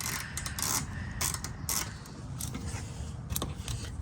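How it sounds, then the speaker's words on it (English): An 8mm socket ratchet clicks in short bursts, working bolts loose on a Honda Element bumper. The sound is quiet and close, with several quick ratcheting runs and soft creaks from the parts. "So to do this, we have to use a 8mm socket."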